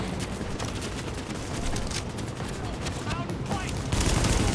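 Rapid bursts of gunfire from the PS4 game Tom Clancy's The Division fill the whole stretch, a steady dense rattle of shots that grows louder near the end, with no talk over it.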